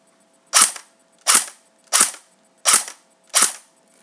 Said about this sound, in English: this gun is electric blowback